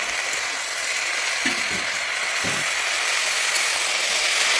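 Thankuni leaves frying in a pan with potato and eggplant, a steady, even hiss of frying with a couple of soft, low stirring knocks, close and moderately loud, with no talking.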